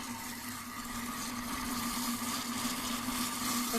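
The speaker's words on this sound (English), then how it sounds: "It's a blender, but it is stirring for us." A Thermomix TM5 hums steadily as it stirs kangkung, its motor drone constant and close with a faint sizzling hiss beneath.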